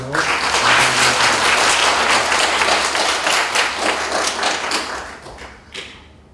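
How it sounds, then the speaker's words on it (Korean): A church youth congregation claps together in thanks during an online worship service, a dense steady wash of many hands that fades out over several seconds, with no talking. "우리 감사의 박수 한번 할게요"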